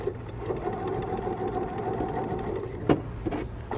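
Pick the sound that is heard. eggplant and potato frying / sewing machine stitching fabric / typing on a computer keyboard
sewing machine stitching fabric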